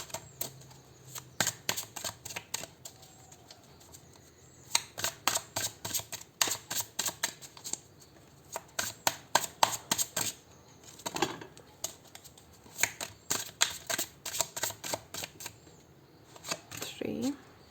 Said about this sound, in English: I'm going to pick all 5 cards